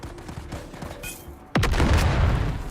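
A single loud grenade blast in the survival game Dune Awakening. It comes after faint, rhythmic footsteps and a brief high whine, then erupts into a sharp crack and a long, rumbling, crackling tail.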